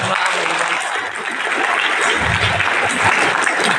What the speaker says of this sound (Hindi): करके ताली तो बजा जरा